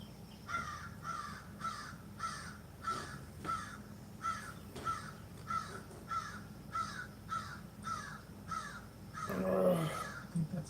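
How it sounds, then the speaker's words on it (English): A crow caws in a steady series of about a dozen harsh calls spaced evenly apart, moderately distant and fairly faint, with a brief louder rustle near the end. "I think that's a crow."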